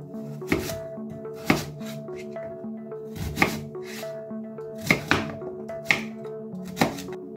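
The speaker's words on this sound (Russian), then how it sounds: "Так, овощи я нарезаю крупно." A knife chops vegetables coarsely on a board, likely celery root and carrot, with about eight firm, evenly spaced chops close by and no talk.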